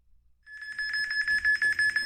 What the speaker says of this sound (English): It beeps, and it shows you the connection speed.